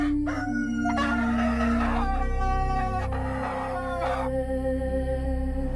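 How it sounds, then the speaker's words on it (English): A rooster crows across empty farmland at dawn, repeated drawn-out calls ringing clearly over a steady low background hum. "their rooster calls echoing across empty farmlands at dawn"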